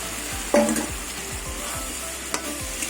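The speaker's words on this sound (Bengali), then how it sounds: "কষাতে কষাতে তেল ছেড়ে দিয়েছে এবার আমি ভাজা ডুমুরগুলো দিয়ে দেবো" Fried figs are added to spiced masala in hot oil, sizzling and crackling while a spoon scrapes and stirs in a steady rhythm, with a couple of sharper clinks.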